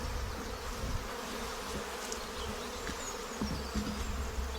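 Honey bees buzz at an open hive, a dense steady hum of many insects close by with individual bees droning past, no voices.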